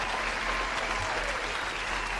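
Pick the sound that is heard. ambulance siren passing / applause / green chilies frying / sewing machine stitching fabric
applause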